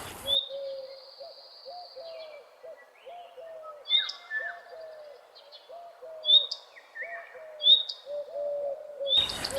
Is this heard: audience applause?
no